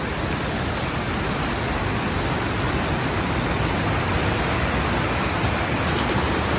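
Stream water rushes steadily in Arizona, a loud, constant broadband roar close by with no pauses.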